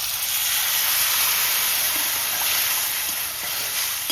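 Dissolved sour water hits a hot pan of fried crab and mustard seeds in oil, giving a loud, steady hiss and sizzle that holds almost unbroken throughout; no talking.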